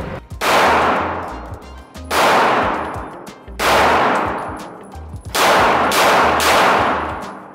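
A gun fires four loud, sharp shots outdoors, spaced roughly a second and a half apart. Each blast rings briefly before the next.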